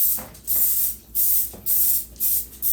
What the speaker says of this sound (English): I'm going to go ahead and spray my waffle maker.